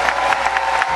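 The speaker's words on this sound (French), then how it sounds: "Les applaudissements" Audience applause at the Miss Gosier 2016 pageant election, a dense steady wash of clapping hands from a crowd, loud and continuous throughout.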